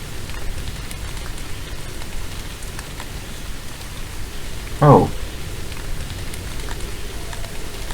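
Steady rain with wind in the video game The Moon Sliver, a broad continuous hiss running throughout, with a single brief spoken exclamation near the middle.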